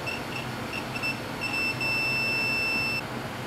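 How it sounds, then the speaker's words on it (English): Steady electronic tone from a digital multimeter's continuity check on a Honda injector resistor pack harness, sounding in short beeps and then one sustained tone lasting about a second and a half. "when you touch the two terminals together, it's gonna beep and let you know that you're touching the same terminal on the other end"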